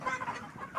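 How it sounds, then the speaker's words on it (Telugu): Chickens at a poultry farm with several hundred birds, a brief burst of soft, overlapping clucks at moderate distance. "మన కోళ్ళు అయితే దాదాపు 500 470 కోళ్ళు ఉన్నాయి"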